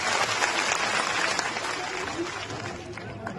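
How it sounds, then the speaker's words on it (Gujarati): A crowd applauds enthusiastically for saints at a Thakor community gathering, a dense, steady roar of clapping sustained throughout with faint voices mixed into the mass of claps. "એકવાર જોરદાર સંતો માટે તાળીઓ પાડી"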